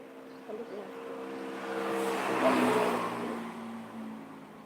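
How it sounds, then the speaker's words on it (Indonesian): Vehicles passing on the road in front of a roadside food stall, one car swelling from a distant hum to a loud pass and fading away, with a brief faint voice near the start. "Melihat kendaraan yang lewat di depan warung, teman-teman."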